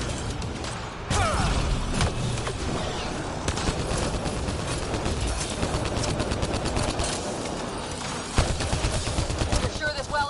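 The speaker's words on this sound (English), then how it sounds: "Looks like we got that turret on our side just in time!" Turret gunfire in Mass Effect Andromeda, sustained rapid shots with heavy battle noise throughout, plus a sharp louder blast near the end; voices talk over the fire.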